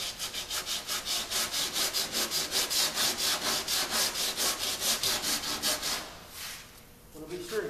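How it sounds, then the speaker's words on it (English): Hand block sanding of drying, powdery auto body filler: a steady run of rhythmic back-and-forth abrasive strokes, close and fairly loud, then a brief pause and a few softer scrapes near the end. "You can notice how much more it's a little harder to sand, and it's more of a powder now that it's drier."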